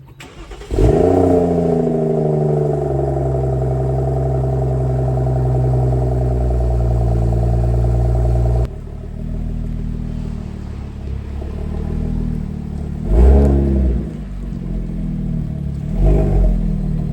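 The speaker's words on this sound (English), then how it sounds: "let's see how this Dynan free flow exhaust sounds" BMW F30 335i fitted with a Dinan free-flow exhaust cold-starts and holds a loud, deep, steady high idle for about eight seconds, then settles to a lower rumble with two brief throttle blips.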